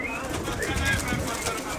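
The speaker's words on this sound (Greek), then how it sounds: "αυτά ήταν τα περιστέρια που είχε βάλει εδώ ο Λάκης" Pigeons in an outdoor spot: soft cooing and a few light wing flaps over a steady, noisy background.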